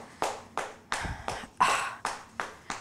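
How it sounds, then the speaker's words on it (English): Several people clap in unison at a steady beat during a pregnancy yoga class, eight or nine sharp, fairly close claps with no talking. "And just give yourself a round of applause."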